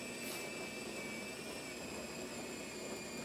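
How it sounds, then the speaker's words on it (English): Built-in coffee grinder of a Gaggia espresso machine running, a steady, even motor whir with a thin high whine that holds unchanged throughout, fairly quiet and with no talk over it. "press the button, you can hear that grinder going again"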